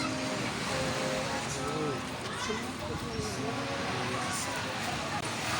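Ocean surf at Boracay beach, a constant loud wash of breaking waves blended with wind rumble on the microphone, with voices talking faintly underneath.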